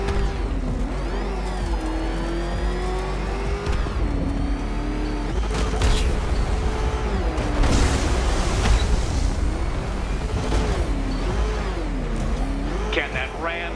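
An engine racing in Batman Arkham Knight, revving and shifting with rising and falling pitch, tire squeals and skids over loud game effects, with a voice talking over it.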